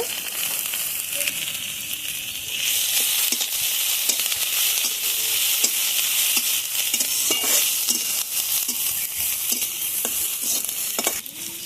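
Chopped ginger sizzles and fries in a pan while being stirred for chira pulao, a steady bright hiss with intermittent scraping and tapping strokes, close and continuous without speech.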